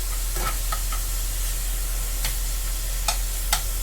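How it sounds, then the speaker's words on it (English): Sausage meat frying in butter in a pan gives a steady close sizzle, with a few light clicks and scrapes of stirring scattered through it. "So far in the pan we have butter and we have the sausage meat."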